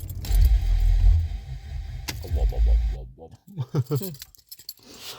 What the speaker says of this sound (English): I'll turn the engine off.